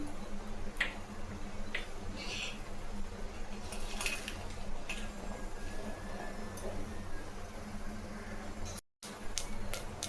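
Mustard seeds dropped into hot oil for a small-eggplant sambar begin to crackle, with sparse sharp pops and ticks scattered over a low steady kitchen hiss, followed by a brief dropout near the end.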